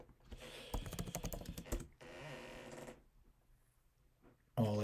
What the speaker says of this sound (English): Type in person holding.